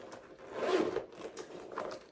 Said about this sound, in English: it does have a zipper closure secured here in the back